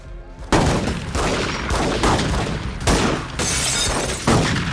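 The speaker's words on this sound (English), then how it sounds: "First, he shoots at Meech." A loud, dense volley of gunshots rings out in a crime drama, with rapid bursts of fire repeating in clusters through the whole clip and no speech over them.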